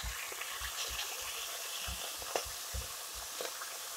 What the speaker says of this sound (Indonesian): kita tumis dulu ya dagingnya